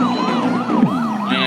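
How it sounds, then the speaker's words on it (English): An ambulance siren wails loud and close in a rising and falling pattern during a multi-casualty emergency drill. "ambulances are arriving"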